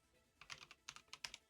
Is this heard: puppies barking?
no